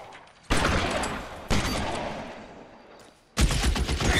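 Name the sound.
gunfire in the video game L.A. Noire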